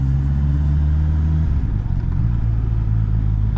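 A car engine hums steadily at close range while driving through a lakeside town in Konstanz on Lake Constance, with a low drone that shifts pitch briefly as the car turns right; no talking.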